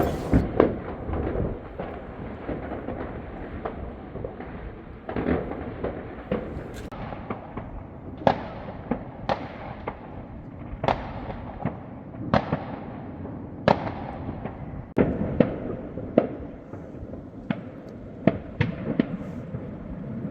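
Repeated booming bursts of New Year fireworks, a dozen or so sharp blasts at uneven intervals over a steady rumbling background.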